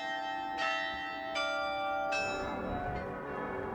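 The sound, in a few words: church bells playing a melody in Passau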